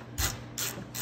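A ratchet wrench clicks rapidly in three short bursts while tightening bolts on a Venom 125cc mini jeep, close and crisp against quiet shop background.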